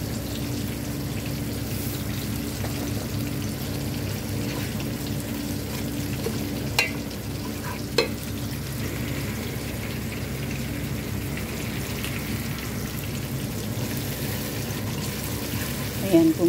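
Fish with tomato and tamarind simmers in a pan with a steady bubbling hiss, broken by a couple of faint clinks.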